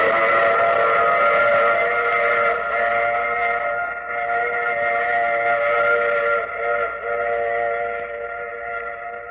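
A train in an old radio drama sounds a sustained, layered whistle that holds for several seconds with slight swells, loud and alone without talk.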